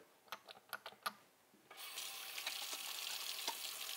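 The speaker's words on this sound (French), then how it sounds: "Maintenant, on s'assure de bien se laver les mains." Hands washed under a running kitchen tap, a few light clicks and knocks at first, then a steady hiss of water flowing into the sink, close and moderately loud.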